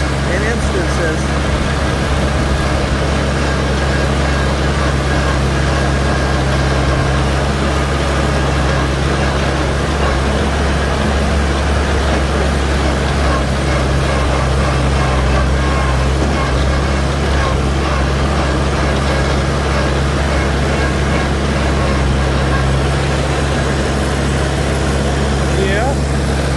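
A Cub tractor engine idling and running steadily nearby, a loud continuous low hum and drone throughout with constant level, while someone talks over it.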